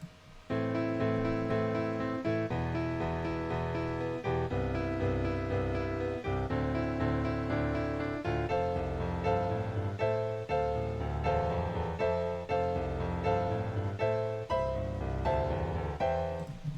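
Playback of a composed musical score for a book, the B section, runs continuously with layered melodic and harmonic parts in a steady rhythmic pulse, with no talk over it.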